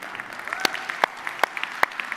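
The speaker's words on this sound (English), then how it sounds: "Please give a huge round of applause to yourself." Conference audience at a blockchain summit in Dubai applauding, heard as a steady wash of clapping with a few sharper individual claps standing out, moderately loud and without talk.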